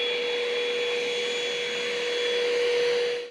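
An Ecovacs Deebot X9 Pro Omni robot vacuum runs at max power, giving a loud, steady high-pitched whine and rushing suction up close, then trailing off at the very end.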